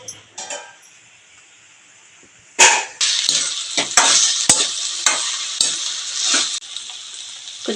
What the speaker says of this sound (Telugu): పప్పుసారు కూడా మరిగిపోయిందండి. ఇప్పుడు తాలింపు పెట్టుకుందామండి.